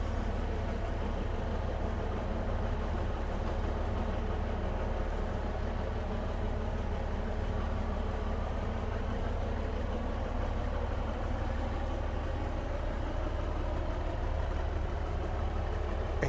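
A Class 156 diesel multiple unit idles in Train Sim Classic, giving a steady low engine drone with a constant rumble and no break or change from start to finish.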